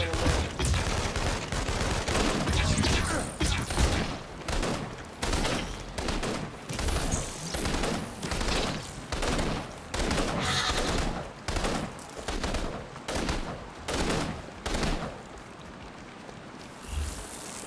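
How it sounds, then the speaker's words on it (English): Heavy gunfire from a big gun in the video game inFamous Second Son, loud repeated bursts of rapid shots in a pulsing rhythm over about seventeen seconds with no talking. "Who the hell is shooting that big gun?"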